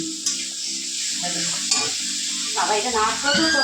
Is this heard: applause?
no